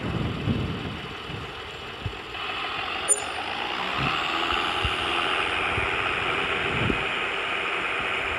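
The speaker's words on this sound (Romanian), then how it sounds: "Bă, că iar tractor." A tractor rumbles past on a road, its engine drone building and holding steady with a few sharp clanks and knocks over several seconds, fairly close and loud with no talk.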